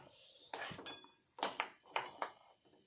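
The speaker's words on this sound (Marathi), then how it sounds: "ते मी एका प्लेटमध्ये काढून घेत आहे." Fried raisins are scooped from a pan of oil and ghee onto a plate, giving several light metallic clinks and scrapes of a spoon against cookware, close and sparse with quiet gaps between them.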